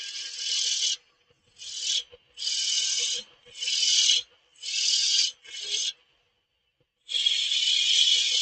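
Hand sanding on a wood turning with 100 grit sandpaper: six bursts of dry, hissing rasping strokes, each about a second long, with short pauses between. Close and fairly loud, with no talking.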